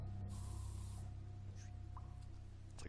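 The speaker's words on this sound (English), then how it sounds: "spraying deodorant." A can of deodorant sprays in the video game Gods Will Be Watching: a quiet, steady aerosol hiss lasts about a second and fades into low game background hum.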